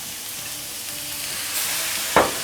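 Celery and beef stir-fried in a wok with chili bean paste, giving a steady broadband sizzle with a brief louder scrape of the spatula near the end; no voices.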